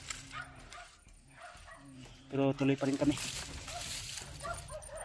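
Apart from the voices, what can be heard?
dogs barking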